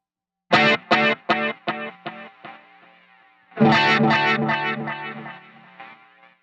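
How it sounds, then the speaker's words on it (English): Electric guitar notes with delay repeats, about seven audible, a run of plucked tones decaying one after another, then a second louder strum trailing off into echoes. "What you want is to be able to hear around 7 repeats, just like this."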